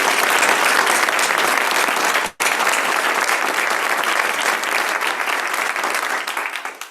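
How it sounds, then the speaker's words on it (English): Sustained audience applause for students at a ceremony, a thick continuous wash of many hands clapping that dips for an instant, carries on, then begins to fade at the end. "let's just give those students another round of applause"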